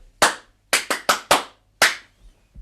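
Sharp, close handclaps playing a triplet rhythm in an uneven pattern: one clap, a tight cluster of four, then a single later clap, with a soft thump at the end.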